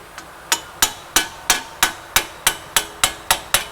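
A hammer taps a wheel bearing press tool on a front wheel bearing job, eleven sharp metallic strikes at an even, quick rhythm, close and loud with nothing else heard.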